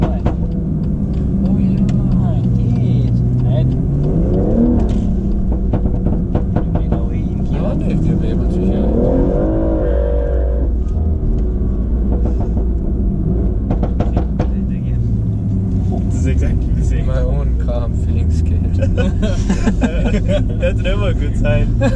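Loud tuned BMW M140i engine running with heavy low rumble and surging revs throughout, under ongoing talk from nearby people.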